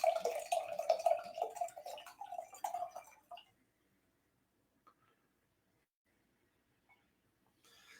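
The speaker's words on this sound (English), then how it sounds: "First pour is always a healthy pour." Trevento wine poured into a glass, a steady liquid gurgle and splash for about three seconds, close and fairly quiet, followed by near silence with a couple of faint ticks.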